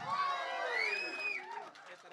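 A crowd at a film teaser launch event for Oh Bhama Ayyo Rama cheers and whoops loudly, a dense swell of excited shouts and whistling voices that peaks then eases off over a couple of seconds.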